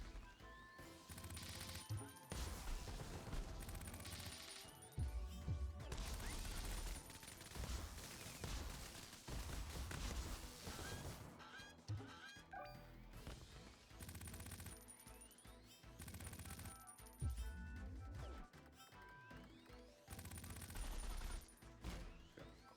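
Dense gunfire bursts and explosive crashes from the action video game CrossCode, loud and continuous with rapid volleys layered over game music and effects.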